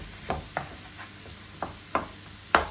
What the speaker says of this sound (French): j'émiette ma viande hachée et puis je vais la laisser cuire